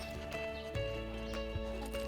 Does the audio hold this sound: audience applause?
no